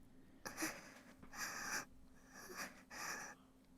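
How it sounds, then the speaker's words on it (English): A female character in a visual novel game pants in three short breathy bursts, close and fairly quiet, with a faint steady hum between breaths. "And why is she panting?"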